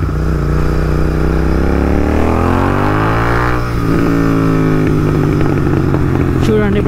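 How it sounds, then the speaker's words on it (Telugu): A tuned motorcycle engine revs loudly and close, its pitch rising then dropping as the throttle is released, with crackling exhaust pops and bangs on the overrun near the end. "చూడండి ఇప్పుడు వస్తుంది పాప్స్ అండ్ బ్యాంగ్స్."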